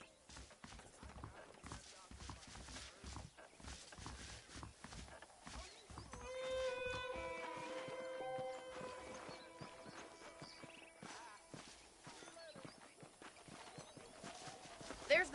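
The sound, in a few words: horse hooves clip-clopping in Red Dead video game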